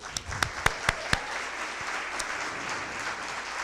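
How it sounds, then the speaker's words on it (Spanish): A church congregation applauds: a few sharp, separate claps ring out first, then a softer, dense patter of clapping continues in the room. "Le damos un aplauso al Señor."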